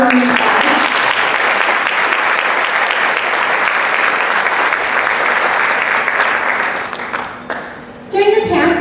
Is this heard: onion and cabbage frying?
no